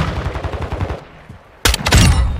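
Gunfire in Call of Duty: Modern Warfare 2 multiplayer, played on a Steam Deck, comes as a rapid automatic burst of close, loud shots, then a short lull before another sharp, heavy volley.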